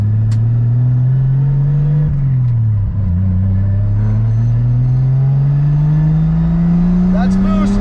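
A six-cylinder Toyota Supra engine pulls hard under turbo boost, its loud, steady drone rising in pitch through a gear, dipping briefly at a shift, then climbing again, with faint voices in the cabin.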